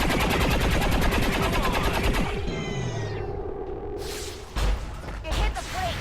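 Gunner in XCOM 2 fires a weapon, a rapid burst of shots lasting about two seconds, followed by in-game effects and two sharp impacts, with a player talking over it.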